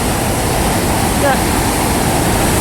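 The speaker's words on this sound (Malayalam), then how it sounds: "ഒരു വലിയ ഗുഹ പോലെ ഒരു സംഭവത്തിനകത്ത് നിന്ന് വെള്ളം കണ്ടോ വെള്ളം എടുത്ത് ചാടുന്നുണ്ടോ കണ്ടോ" Water gushes from a cave-like opening at Neyyar Dam in Thiruvananthapuram, a loud, continuous roaring rush that fills the whole moment without pause.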